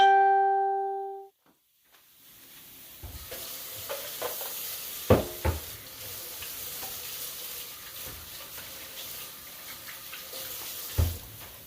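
Onions fry in a pan for mustard greens, a faint steady sizzle broken by scattered stirring scrapes and clinks after a short tone at the start.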